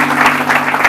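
Audience applause at a church-style gathering honouring a musician, a steady close wash of clapping hands with no pauses.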